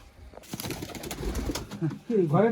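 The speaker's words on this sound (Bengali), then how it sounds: "তো এই একটা পায়রা দেখুন, একদম সুন্দর চটিয়াল পিজন যাকে বলে" Soft coos from a Madrasi show pigeon near the end, a couple of rolling low calls rising over a murmur of background voices and handling noise.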